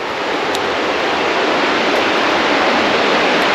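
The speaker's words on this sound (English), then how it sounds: "Better look at the creek from here." A creek flows through a quiet forest as a loud, steady broadband rush of water that holds constant throughout, with no voices.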